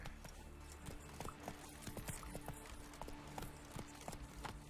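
Roach, a horse in The Witcher 3, gallops with quick, rhythmic hoof clops over ambient game sound, fairly quiet and steady.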